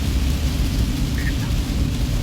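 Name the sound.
steady rain falling on highway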